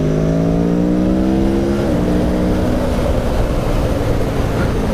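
A 2017 Aprilia Tuono motorcycle engine revs loudly and close, a steady throttle blip with the pitch climbing and then dropping back to a rough, throbbing idle, with no voices.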